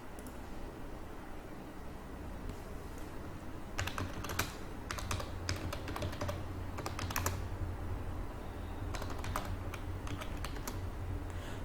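Someone types code on a computer keyboard, with bursts of quick, close keystrokes separated by pauses over a steady background hiss.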